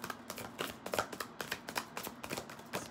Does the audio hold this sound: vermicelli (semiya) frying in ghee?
no